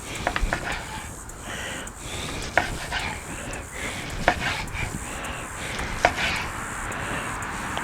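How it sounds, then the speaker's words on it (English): A knife cuts through a smoked chuck roast along a fat seam, giving a few soft, close slicing and scraping sounds with sharp taps at intervals over low background noise. "so we're going to go ahead and cut it in half right now"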